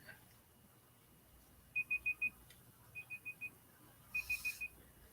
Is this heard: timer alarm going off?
yes